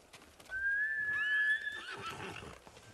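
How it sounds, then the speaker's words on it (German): A horse in the video game Ghost of Tsushima gives one loud rising whinny that falls away, followed by softer hoof clip-clops, with no talking. "Pferdchen haben wir auch. Das nehmen wir jetzt."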